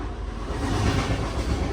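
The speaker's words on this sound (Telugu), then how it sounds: "ఇంకో ట్రైన్ కూడా వెళ్ళిపోతుంది పక్కన" Another train rolls past alongside on the neighbouring tracks, a steady, moderately distant rumble and rattle that holds evenly throughout, with no talking.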